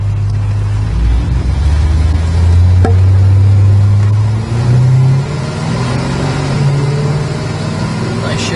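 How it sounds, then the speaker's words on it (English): A 1970 Dodge Coronet R/T engine revs loudly up and down, a deep rising and falling roar close by with a brief dip mid-rev before climbing again. "Car sounds good."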